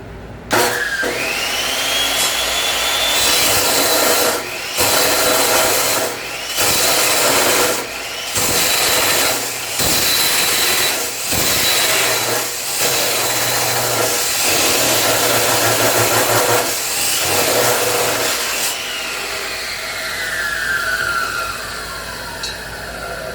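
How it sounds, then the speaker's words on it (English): Steady, loud power-tool cutting of metal frame connector material, a continuous grinding whine broken by short pauses and restarts, with no talking. "So we're just cutting the material now."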